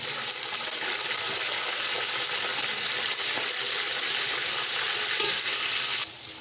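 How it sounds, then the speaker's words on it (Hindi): Boiled beef frying in a pot with whole garam masala for beef yakhni pulao, a loud continuous sizzle with stirring, steady throughout before dropping in level near the end, no voices. "अब हम इसमें ये गोश्त डाल देंगे जो हमने बॉईल किया था, और इसको भी हम इसमें फ्राई करेंगे।"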